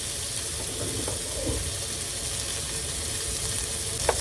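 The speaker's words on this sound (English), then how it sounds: "So we're gonna sizzle this thing." Soft, steady sizzling of food frying in a cast iron pan on a hot plate inside a camper trailer, continuous and even, with a faint clink near the end.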